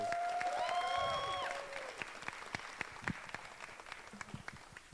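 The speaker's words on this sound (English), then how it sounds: "So can we give a round of applause for the audience, please?" Audience applause at a student association event, starting full with cheering and whoops, then thinning to scattered individual claps as it tapers off.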